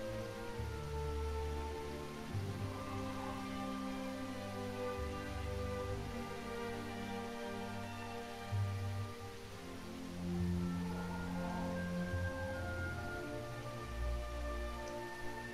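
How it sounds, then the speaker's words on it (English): Steady rain falling continuously for a long stretch, a dense even wash of drops with soft low rumbles beneath, no voices present. "The rain continued until dawn, the start of a new day."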